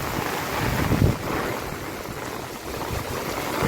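Heavy monsoon rain pours down on a residential street, driven by strong gusts of wind. A dense, loud, continuous hiss swells with a gust and a low thump near the first second, then keeps roaring evenly.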